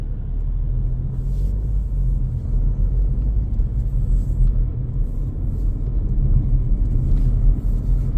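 A car cruises along a country road in Sussex with a steady low engine and tyre rumble from inside the cabin, constant and fairly loud, with no speech.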